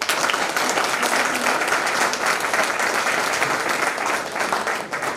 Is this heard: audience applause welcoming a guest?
yes